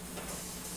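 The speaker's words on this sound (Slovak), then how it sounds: "Vypúšťa paru." Steam venting in Fallout 4, a steady broad hiss that holds evenly at moderate level for under a second with no talk over it.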